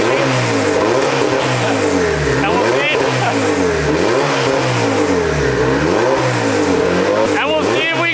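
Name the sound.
Honda Civic with LS VTEC engine revving on dyno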